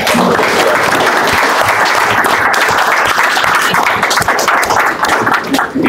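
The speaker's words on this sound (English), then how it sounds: "everybody just to really give Sheriff Leahy a round of applause" Loud, sustained applause from a political panel audience, dense clapping filling the whole stretch without pause and with no talking over it.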